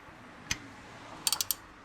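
Ratchet working on an 8mm Allen head drain plug of an Audi S3 Haldex unit: one sharp metallic click, a pause, then a quick run of four close ratcheting ticks.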